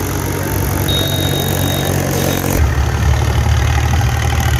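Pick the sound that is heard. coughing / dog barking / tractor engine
tractor engine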